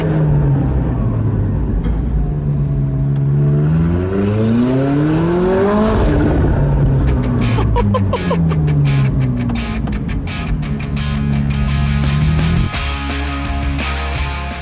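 A McLaren 675LT supercar engine roars close by, its pitch rising and falling through revs and gear changes, ending with rapid popping crackles and a deep idle.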